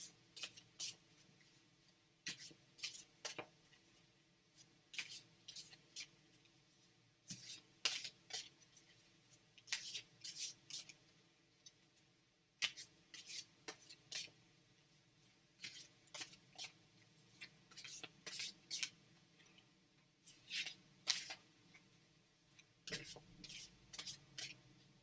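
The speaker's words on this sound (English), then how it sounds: "So we're going to shuffle with Alex in mind." Soft, crisp rustling bursts of tarot cards being shuffled, coming in irregular clusters close by, with quiet pauses between them.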